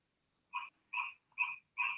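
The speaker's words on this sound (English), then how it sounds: "The frog, it's really loud." A frog croaks loudly and close by at night in Bali, four evenly spaced throaty calls in quick succession, heard alone with a faint insect-like whine behind the first ones.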